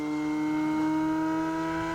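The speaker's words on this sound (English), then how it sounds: "Hear that prop whining?" A Yak-11 RC racer plane flies by with its propeller whining. The tone is steady and moderately faint, with several stacked pitches that hold through a brief pass, and no talk.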